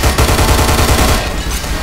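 Turret gunfire in the Hunt Down The Freeman video game blasts in a loud, rapid, rhythmic automatic burst of closely spaced shots lasting under two seconds, close and dominant with no talking.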